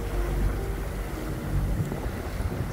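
Steady wind buffeting the microphone on a boat out on a fjord in summer, a continuous low rushing noise with gentle gusts and no voices.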